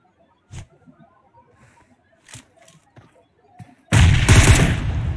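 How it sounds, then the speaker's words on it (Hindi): An M24 sniper rifle fires in a battle-royale shooter game: a sharp loud shot followed by sustained roaring gunfire noise, after several faint, sparse clicks and thuds. "और ये पड़ा M24 का शॉट"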